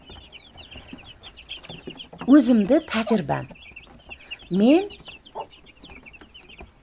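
A hen clucks in short bursts amid a brood of chicks peeping continuously in the background, while a person talks nearby over the birds.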